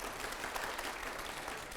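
Studio audience applause on a Hindi political debate show, a steady dense clapping that fills the whole stretch at moderate, even loudness with no voices.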